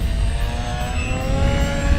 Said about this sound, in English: this is just a really nice prop plane and an EDF jet